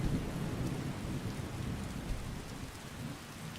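Heavy rain and rumbling thunder from a storm in the video game Skyrim, a steady dense downpour with low rolling thunder throughout, loud and continuous with no voices.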